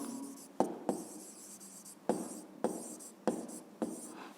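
Handwriting a physics solution makes a faint, close scratching of pen on paper, broken by several sharp taps and strokes at irregular intervals, with no voices.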